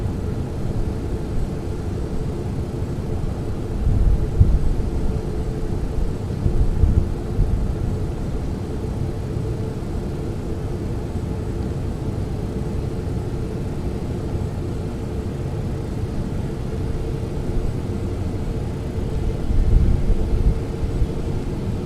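Airbus A380 airliner in flight leveling off at 2,000 feet, a steady low rumbling drone of engine and airflow that swells slightly at a few points, continuous and fairly loud with no voices.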